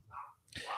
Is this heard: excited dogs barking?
yes